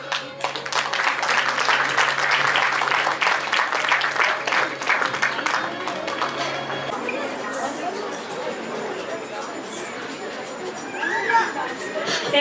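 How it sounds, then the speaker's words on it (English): An audience at a school annual day claps to welcome a guest, the moderate applause lasting several seconds before giving way to crowd chatter and murmuring. "Let's welcome her with a round of applause"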